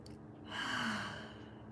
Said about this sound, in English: Now, let's all take a breath together, please.